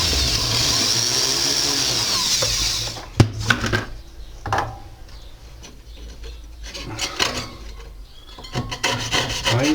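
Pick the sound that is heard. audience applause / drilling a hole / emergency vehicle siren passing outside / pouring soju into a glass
drilling a hole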